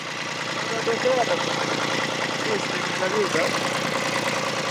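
A Japanese car in poor technical condition runs with a rough, uneven engine drone after struggling to start, steady and fairly loud throughout while someone talks over it.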